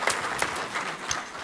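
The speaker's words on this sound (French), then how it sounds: "on peut l'applaudir" Audience at a vegetable growers' congress round table applauds, a faint, thin spread of hand clapping with a few distinct individual claps standing out.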